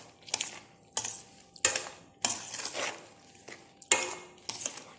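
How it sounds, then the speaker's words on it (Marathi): A spoon stirs homemade green chili pickle freshly coated in poured oil, making irregular bursts of scraping and clinking against the container, separated by short quiet gaps. "तर आता हे आपण तेल सगळं ओतलेलं आहे. छान असं मिक्स करून घ्यायचं."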